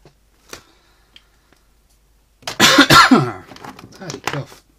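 A few faint clicks, then a loud, harsh cough bursts out up close, followed by a short throat-clearing rasp.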